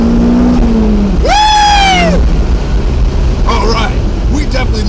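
A Toyota MR2 fitted with motor mount inserts pulls hard under turbo boost, its engine note rising loudly in pitch, then easing off, with a voice heard close over the engine.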